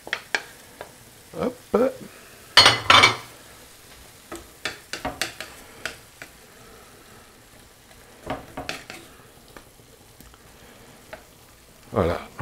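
Pork being added back to split peas in a cooking pot, with bursts of close sizzling and scraping stirs between quieter pauses, and a brief spoken word in between.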